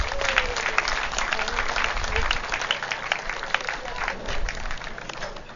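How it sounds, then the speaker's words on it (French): Sustained applause from a gathered crowd at a funeral celebration of life honouring a matriarch, steady dense clapping that carries on evenly for several seconds with no voices standing out. "30 secondes d'applaudissements pour ma mère"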